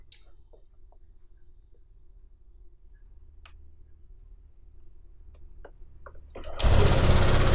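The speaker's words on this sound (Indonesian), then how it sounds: "Coba hidupkan motornya." A Honda Vario, PCX or Yamaha NMAX-type scooter sits quiet with a few faint clicks, then its engine starts near the end and settles into a loud, steady, close running drone.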